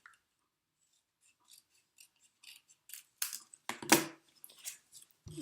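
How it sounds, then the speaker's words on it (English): Scissors snipping through a paper tag in a quiet room, a few faint scattered clicks building to two or three louder, crisp cuts close by. "if you take this tag here and you cut this off like this"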